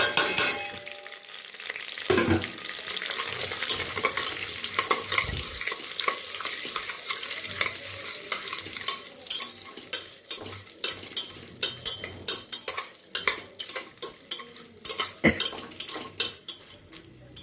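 Cashews fry and are stirred in a pan for chicken biryani, giving a steady sizzle with repeated scraping and clinking of a utensil against the pan, close and fairly continuous.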